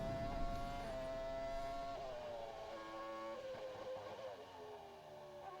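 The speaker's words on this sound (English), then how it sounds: "Hearing an F1 car bang against the limiter is a wild sound." A Formula 1 car engine in the F1 22 racing game, held high against the rev limiter in a steady, slightly wavering buzzing whine, fairly faint and with no voices.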